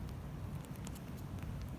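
Steady rain falling outdoors, a soft continuous patter with faint scattered drips, low-level and close, with no voices.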